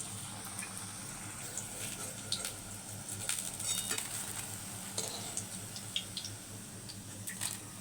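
Quiet, continuous sizzle of green banana kofta frying in oil, with faint clinks and small pops scattered throughout, heard from a short distance.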